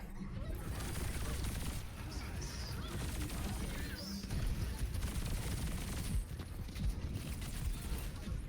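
Rapid gunfire in a competitive shooter game, with bursts of shots and impacts over a busy, rumbling background, while a voice talks intermittently.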